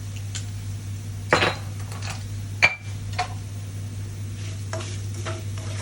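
Date pickle masala, with turmeric powder in the mix, stirred in a pan, with a soft low fry and a few scrapes and clinks of a spoon against the pan over a steady hum.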